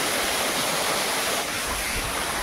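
Rushing water at a Panvel waterfall, a steady, dense broadband roar that stays loud and close throughout with no pauses.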